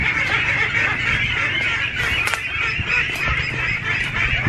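A dense, continuous din of many chickens squawking and clucking together in a coop, loud and close, with no gaps throughout.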